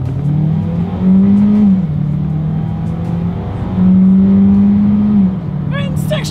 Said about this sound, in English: let's go ahead and do an acceleration test here, and let's see how quickly we can get the new 2021 Hyundai Kona here up to speed.